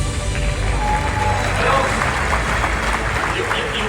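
An audience applauds in a dense, steady wash of clapping that holds for the full stretch, with voices murmuring underneath.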